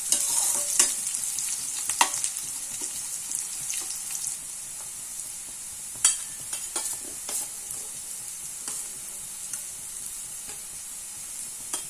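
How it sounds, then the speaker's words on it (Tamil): Ingredients sautéing in a pan for a stingray fish curry give a steady soft sizzle with scattered scraping and stirring clicks from a spoon, moderately close and without speech. "கொஞ்சம் கலர் மாறுற வரைக்கும் நம்ம வதக்கிக்கலாம்."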